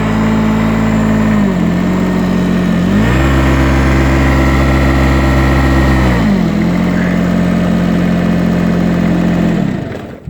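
A car engine cold-starts in winter snow and idles loud and close, its pitch rising twice in brief revs before settling, then cutting off at the end.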